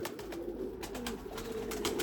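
Erzurum white breeding pigeons coo in a loft, a close, continuous low rolling warble with a few fluttery accents and no talk.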